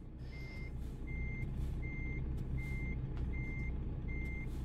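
Truck in American Truck Simulator maneuvering slowly, with a low idling engine under a steady series of six evenly spaced reversing beeps, faint and continuous.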